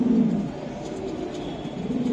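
A pigeon cooing nearby, with a soft low coo at the start over a quiet, steady background.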